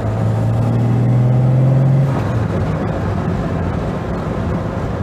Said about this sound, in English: It's that low down, dirty grunt of the XK engine.